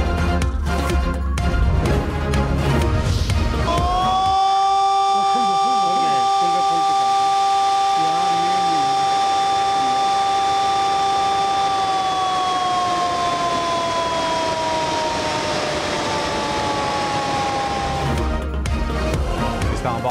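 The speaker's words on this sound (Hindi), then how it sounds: "सायरन बजाकर डैम के अतराफ की आबादी के लिए अलर्ट जारी किया।" A warning siren sounded to alert residents near Islamabad's Rawal Dam during flood spillway releases, a loud sustained wail that holds steady and then slowly falls in pitch, with broadcast sound before and after.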